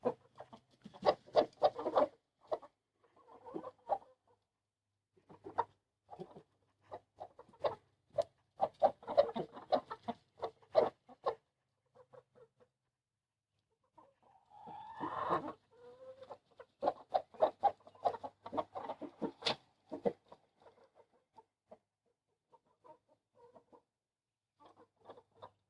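Several chickens cluck in repeated bursts with pauses between, fairly close and alone with no talk, a farm flock kept alongside turkeys.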